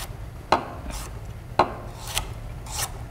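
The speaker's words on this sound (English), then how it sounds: "And then just cut it into thin strips." A knife cuts unpeeled carrots into thin julienne strips on a board, giving two sharp chops followed by softer rasping slides, close and quiet with no voices.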